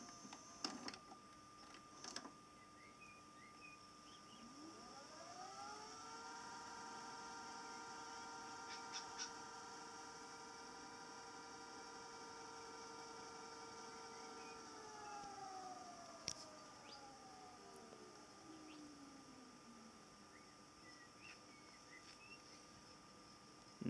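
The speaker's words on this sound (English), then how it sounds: "You'll hear the machine winding the tape back." A VCR rewinds a VHS tape, its motor whine rising in pitch, holding a steady tone for about ten seconds, then gliding back down as it stops, with faint clicks at the start and end.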